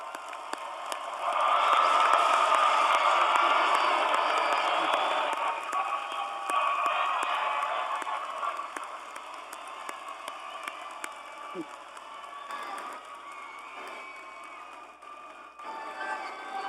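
A large graduation ceremony crowd applauds steadily for several seconds, the clapping swelling early and then thinning out, with a few voices faintly in the background.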